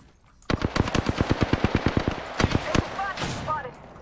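Automatic weapon fire in the video game Apex Legends: a rapid burst of about fifteen evenly spaced shots, then a few trailing shots and brief game effect sounds, loud and close.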